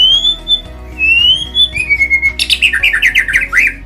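Clear, loud oriental magpie-robin song: sweet sliding whistles giving way to a quick run of varied, chattering notes.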